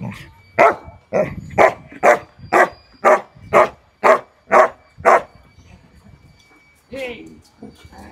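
A trained dog barks on command, about nine loud, evenly spaced barks close by, then a pause and a brief voice at the end.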